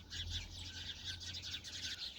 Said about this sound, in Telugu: ఆ చెట్ల మీద కూడా ఉన్నాయి పిచ్చుకలు చూడండి ఇవన్నీ ఎగురుతున్నాయి